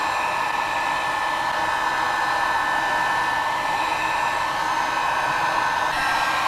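A heat gun blows steadily and loudly on a Lambretta scooter seal plate, a constant broadband roar with a slight shift near the end, no voices.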